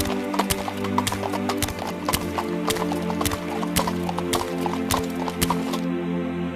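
Donkey hooves clip-clop in a steady, close, even rhythm of sharp knocks over a droning musical backing, with no speech.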